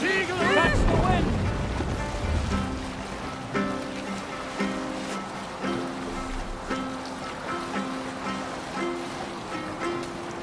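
Sailing ship in Assassin's Creed Valhalla riding over waves, a steady wash of surf and water rushing around the hull, with voices shouting over it and game music tones layered throughout.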